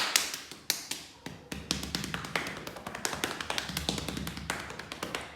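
Body percussion by hand striking and slapping different parts of the body in a children's music lesson: a close, irregular series of sharp taps and soft thuds at varied pitches, quick and uneven in rhythm, alone without talk.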